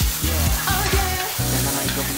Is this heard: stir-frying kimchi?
yes